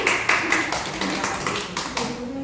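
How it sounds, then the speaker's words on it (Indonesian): A classroom of students claps in applause, a brisk run of overlapping hand claps heard close, with a voice briefly talking over them. "Tepuk tangan dulu."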